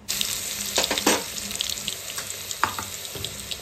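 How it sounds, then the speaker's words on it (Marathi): Cumin and mustard seeds crackle and sizzle in hot oil, with a few sharp pops and some watery hiss, close up and steady. "जिरी मोहरीची फोडणी देऊया। ते व्यवस्थित तडतड करेपर्यंत ठेवू।"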